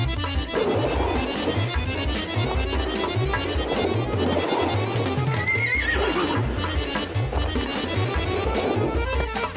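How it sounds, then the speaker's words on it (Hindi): A horse whinnies amid loud, busy cartoon background sound with hoofbeat-like clip-clop and music throughout, the neigh rising briefly over the dense mix. "ऐसा लगा जैसे घोड़ा हंसा।"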